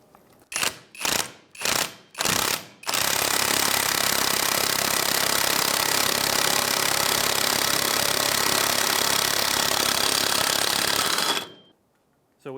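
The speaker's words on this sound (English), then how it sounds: "we'll go ahead and tighten it down and start to pull our hub in" A hub puller tool being tightened to draw the rear wheel hub into the knuckle of a 2003-2011 Honda Element, four quick mechanical ratcheting bursts followed by a long, loud, continuous whirring drive, then silence.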